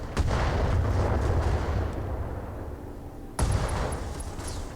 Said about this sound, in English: That's an ammo explosion.